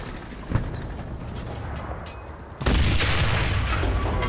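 Gunfire and explosions in the World War II shooter game Enlisted, a boom early on, then a sudden loud burst that turns into sustained, dense rumbling battle noise.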